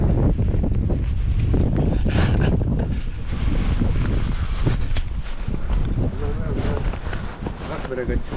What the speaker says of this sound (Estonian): 17 meetrit sekundis oli tuul